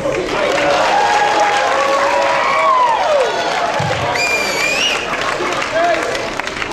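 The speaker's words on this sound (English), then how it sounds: "give her a warm CHL welcome by applause" Audience applause welcoming a speaker to a civil rights lecture, steady loud clapping and crowd noise filling the room, with cheers and a few voices and whistle-like tones over it.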